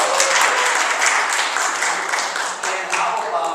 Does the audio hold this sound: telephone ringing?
no